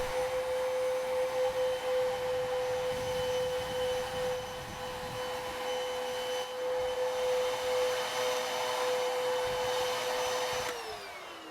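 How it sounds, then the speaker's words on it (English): Vacuum cleaner picking up sanding dust from a hexagonal end table after 220-grit hand sanding, a steady whining motor drone with a strong constant tone that winds down at the end. "I like to vacuum for the larger bits."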